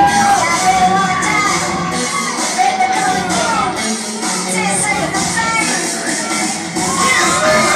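A loud, sustained crowd ovation at a wrestling show in Pelham, with shouting and cheering voices blending into a dense roar that holds steady throughout.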